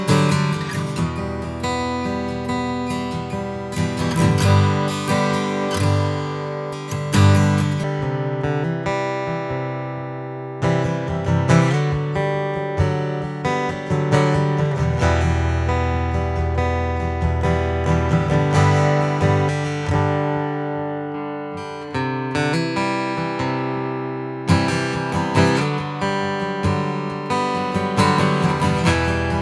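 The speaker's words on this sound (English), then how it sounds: "What you just heard was this acoustic guitar being mic'd with a Telefunken" A 1967 Gibson Hummingbird acoustic guitar, picked up by a Telefunken TF47 microphone through a Neve 1073 preamp, plays strummed chords with ringing open strings. It sounds full and continuous, close and loud throughout, with no talking.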